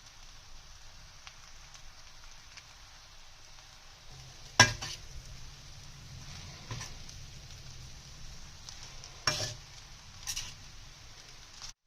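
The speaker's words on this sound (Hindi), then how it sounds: "अब उसके बाद 2 टेबल स्पून सोया सॉस डालेंगे।" Veg chowmein noodles being stir-fried with soy sauce in a hot pan, a steady sizzle with louder scraping and tossing bursts, no voices.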